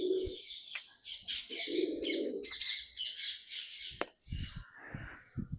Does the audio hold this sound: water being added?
no